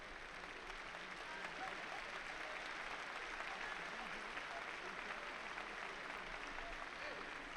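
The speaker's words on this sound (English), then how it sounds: "A nice round of applause for Nakaya Riki as he makes his way out of the a" An audience in a judo arena at the Paris Grand Slam applauds steadily, a dense, even wash of clapping from a large crowd heard at a distance, with commentators talking over it.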